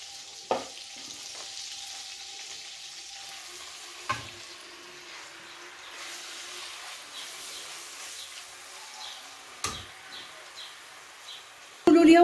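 Minced meat cooking in butter and oil in a frying pan gives a steady, close hiss of sizzling throughout, broken by a few sharp knocks of a utensil against the pan.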